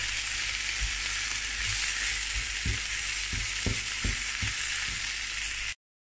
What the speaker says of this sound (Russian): Перемешиваем и обжариваем примерно полминутки, чтобы паприка отдала свой вкус.